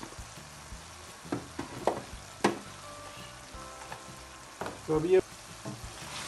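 Minced chicken with chilli flakes and whole cumin sizzles in a pan, close by and fairly soft, with stirring clatters and spatula scrapes, while a voice speaks briefly.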